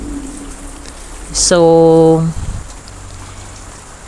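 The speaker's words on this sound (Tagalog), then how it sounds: "Bumuhos na naman ang malakas na ulan." Heavy rain pours with a constant hiss, broken midway by a loud, brief harmonic call or voice lasting under a second before the downpour carries on.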